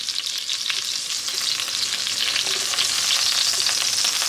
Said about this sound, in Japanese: パリパリに焼きます